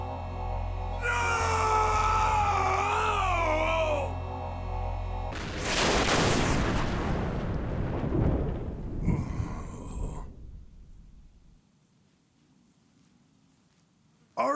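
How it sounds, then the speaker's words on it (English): A video game explosion erupts as a loud broadband blast about six seconds in. It follows a wavering, screaming tone and rumbles away through several crackling bursts before dropping to near silence. "Why the explosion?"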